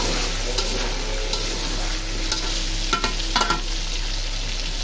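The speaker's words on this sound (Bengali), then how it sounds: "আদা রসুনের সাথে কিন্তু মাংস একটু ভালো ভাজা হচ্ছে" Meat fries with ginger and garlic in a pan, a steady close sizzle broken by several sharp scraping stirs, with no talk.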